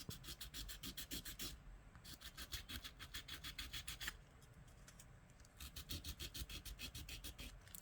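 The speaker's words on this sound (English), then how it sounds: "So this is why I use sandpaper. I sand it down just a little bit" Sandpaper rubbed against the button contacts inside a Nintendo DS Lite, giving quick, steady back-and-forth rasping strokes, close and fairly quiet, with a brief pause midway.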